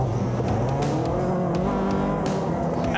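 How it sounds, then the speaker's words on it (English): Off-road racing buggies, light and pro classes, roar past at the New Zealand Offroad Grand Prix, a loud continuous blend of several revving engines close by with no voices. "They were followed by the light buggies, coming from the back, the faster still pro buggies."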